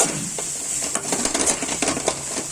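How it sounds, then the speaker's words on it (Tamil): Masala sizzles in a hot pan on a lowered flame while a spoon stirs and scrapes it in repeated strokes, near and alone, while cooking leftover chapati into a chilli dish. "இப்போ இது நல்லா வதக்கி விட்டுருங்க."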